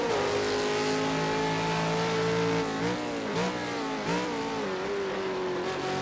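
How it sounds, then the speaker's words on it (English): A Super 2 race car engine revs hard under throttle at Long Beach, loud and steady close up, pitch climbing then dipping through downshifts, with no voices. "Not over revving the engine in the downshifts."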